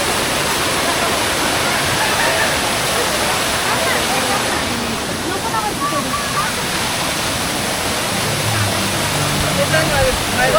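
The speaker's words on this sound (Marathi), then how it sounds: "हा आहे धबधबा." Loud, continuous rush of the small Varasgaon waterfall near Pune in monsoon, heard close by as a broad steady roar with a faint low tone near the end.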